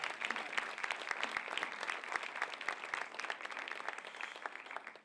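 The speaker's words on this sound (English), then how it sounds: "let's make a big round of applause" Steady applause from an audience at an evening gathering, dense clapping that holds evenly throughout with no pauses.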